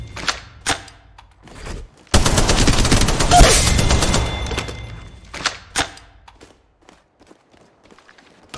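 Gunfire rattles through a winter-mode match of the mobile video game Apex Legends Mobile, with a few isolated shots, a dense burst of rapid automatic fire, then scattered thuds and single shots fading out.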